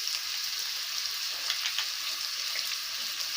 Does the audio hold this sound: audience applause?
no